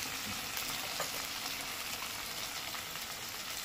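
Spices hit fried tomato and onion in the pan and set off a continuous, even sizzle and crackle, close and steady, with no voices over it.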